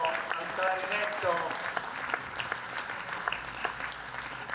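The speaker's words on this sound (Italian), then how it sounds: "Farei l'applauso al clarinetto" An outdoor audience at a Sardinian folk event in Ploaghe gives a clarinet player a burst of applause, a dense patter of many hands. It is loudest at first and then thins out, while a voice speaks over it.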